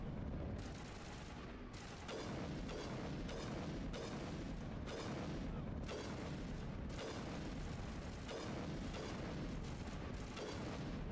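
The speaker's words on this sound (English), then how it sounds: "I have a lovely sniper rifle. You just need to step out and I will shoot you with it." Repeated heavy weapon fire from a sniper rifle in the video game Mass Effect Legendary Edition, a steady string of loud booming shots and blasts filling the whole stretch with only brief gaps.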